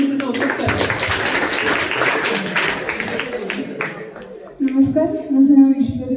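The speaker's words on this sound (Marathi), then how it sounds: "मी टाळ्या वाजवून तिचं कौतुक करते" Classroom applause from students and a teacher clapping to praise a schoolgirl, a dense broadband patter for about four seconds, followed by someone speaking close by.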